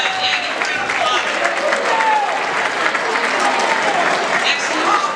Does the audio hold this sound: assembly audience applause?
yes